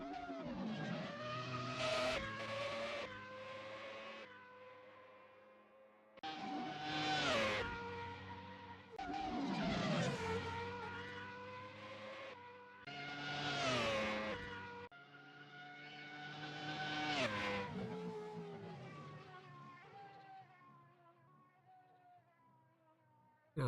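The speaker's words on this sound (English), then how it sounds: "Now all speed and hard on the brakes." McLaren MP4/4 race car on the Goodwood hillclimb in a sim racing game, engine revving hard in rising surges between gear changes, with sharp braking and tyre squeal, fairly close.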